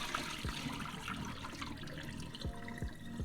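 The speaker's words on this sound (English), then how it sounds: "So pour that water out." Dirty rinse water from soaking sea moss is poured out of a bowl into a sink, a faint continuous splashing and trickling with a few gurgling drops.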